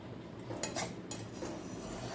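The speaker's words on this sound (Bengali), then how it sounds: "এবার চিনিটা আর কাজু কিশমিশটাকে খুব ভালো করে আর একবার মিশিয়ে নেব" Sugar, cashews and raisins being stirred into fried rice in a pan over low heat, with soft scraping and light clinks of a utensil against metal, fairly steady and close, no talking.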